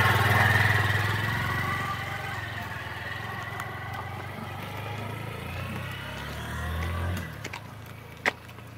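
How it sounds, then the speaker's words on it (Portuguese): A motorcycle engine runs steadily close by, a low idling rumble that holds through the clip and rises briefly near the end, with a sharp click just after. "E aí a gente comprou essa moto pra ele."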